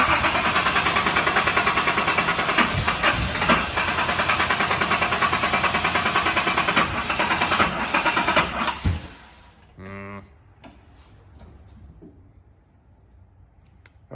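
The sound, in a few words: Datsun 280zx engine starting and idling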